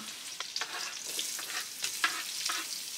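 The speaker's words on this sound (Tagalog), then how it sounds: "Igisa lang natin ang bawang." Unpeeled garlic cloves sauté in a hot pan with a steady broadband sizzle, punctuated by a few sharper crackles and spatters, close and moderately loud with no talking.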